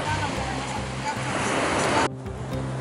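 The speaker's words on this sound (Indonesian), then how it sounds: "Bisa sampai mengeluarkan uap seperti ini? Ini sangat mendidih dan mungkin lebih dari 100 derajat." Boiling geothermal steam vent on Poa beach, a hot spring releasing steam above 100 degrees; a loud, steady rushing hiss with turbulent bubbling and low rumble that cuts off abruptly near the end, leaving a softer wash.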